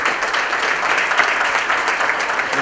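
Steady applause from a seminar audience at a reinsurance round-table panel, a dense, even wash of clapping that holds at one level for nearly three seconds with no voices on top.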